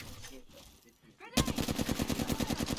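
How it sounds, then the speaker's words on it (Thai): Rapid automatic gunfire in the shooter game Apex Legends, likely an R-301 rifle, bursts out suddenly after a quieter moment and keeps hammering in a fast, even rhythm, loud and close. "ผมโดดเข้าไปยิง"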